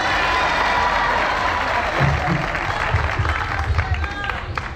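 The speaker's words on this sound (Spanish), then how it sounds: "Aplausos para que se largue." Audience applause and crowd noise at a live comedy show, a steady wash of clapping with some cheering, while voices talk briefly underneath.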